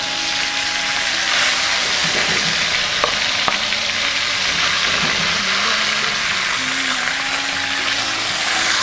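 Steady, loud sizzling of meat frying in a pan, a continuous crackling hiss with a few sharper pops.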